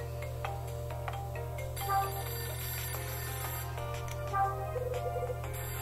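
A telephone rings in the video game Hotel Dusk as short, rapid trilling bursts over game music and a steady low hum.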